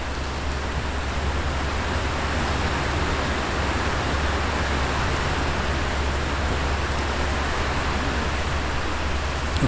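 Heavy typhoon rain during Super Typhoon Inday at Subic Bay, picked up by a stereo microphone as a dense, steady hiss like broadband noise with a low rumble, continuous and unbroken throughout, with no talking.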